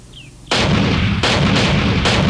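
Cannon and gunfire in an animated show: a sudden heavy blast lands after a brief quiet moment, followed by repeated booming shots over about two seconds, loud and dense.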